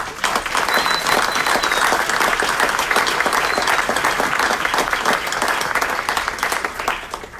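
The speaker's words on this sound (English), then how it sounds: "Let's give them a round of applause." An audience at a city council meeting in Aurora breaks into a round of applause: dense, continuous clapping that stays loud for several seconds before easing slightly at the end.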